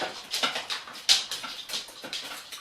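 A stuck screw squeaks in a series of high, thin squeals as it is slowly turned out, each creak short and close, with brief pauses between.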